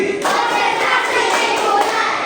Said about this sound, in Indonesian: Ulang. Tepuk konsentrasi.